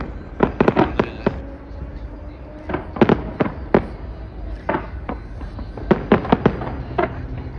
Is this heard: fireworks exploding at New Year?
yes